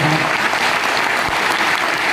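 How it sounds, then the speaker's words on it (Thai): A gathered audience at a formal ceremony gives a burst of loud, dense applause. The clapping runs steady and close for the whole stretch with no voices over it. "ขอเสียงปรบมือ"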